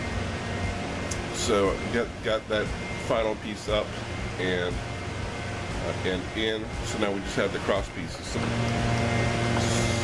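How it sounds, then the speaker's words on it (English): Steady broadband whoosh of a neighbor's leaf blower running outdoors in the background, continuous and fairly loud throughout, under a voice talking while building a screened porch. "my neighbors are blowing some leaves"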